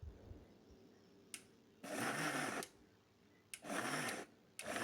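A kitchen mixer grinder grinding chicken into paste runs in two loud whirring bursts of about a second each, with short clicks and quiet pauses between them.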